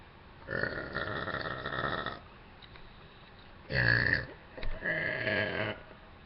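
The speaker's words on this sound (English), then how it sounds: "I suck at burping." A girl lets out several burps: a long croaky one, then a short loud belch and a final drawn-out one, each close and alone with quiet gaps between.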